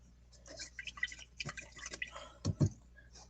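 A paintbrush rinsed in a water jar between coats of paint, giving close, soft watery swishes and drips in an irregular rhythm, with a few louder sloshes toward the end.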